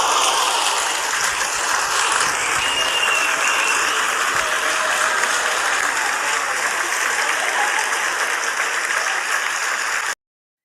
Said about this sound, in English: clap it up one time for spoken word from our guy